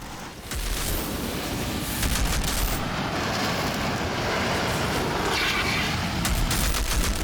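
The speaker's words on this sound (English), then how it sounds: "Oh, I got powerful guns, baby, yes." Heavy gunfire from powerful weapons during a boss fight in the Outriders video game, played as a Technomancer on PC, forms a dense, continuous wall of blasts and booms with no pauses, loud and close.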